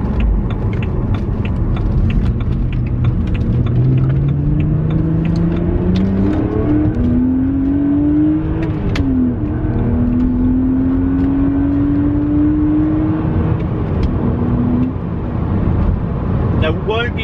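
A BMW 130i with a 3-litre straight-six petrol engine accelerates hard, its rising engine note climbing steadily through the gears over constant loud road and cabin noise, with a brief dip at each shift.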